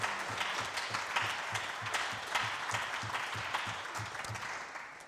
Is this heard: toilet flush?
no